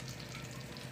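Butter melting in a pan while homemade ghee is made, giving a soft, steady sizzle and fine crackle of frying bubbles, close and continuous throughout.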